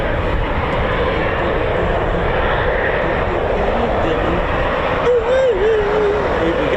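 A Eurofighter Typhoon FGR4 jet taxis at RAF Coningsby, giving a loud, constant engine roar that fills the whole stretch, with a brief higher whine near the end and voices talking underneath.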